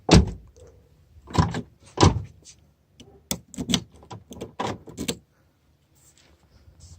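Key turning in the door lock of a 2006 Toyota Corolla LE, unlocking all the doors at once: a series of sharp mechanical clicks and clunks in close bursts, separated by quiet pauses.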